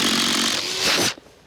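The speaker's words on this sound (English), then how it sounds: "Get a paddle bit, drill a hole through the decking so we can cut out our round hole with a saw." Power drill spinning a paddle bit through wooden roof decking, a loud, steady high-pitched whine that swells briefly, then cuts off abruptly near the end, leaving quiet.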